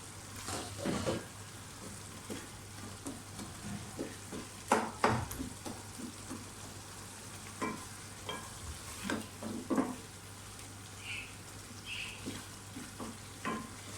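Minced meat qeema fries in a pan, a low steady sizzle broken by repeated scraping stirs and clatters spaced a second or two apart, close and fairly quiet with no talk.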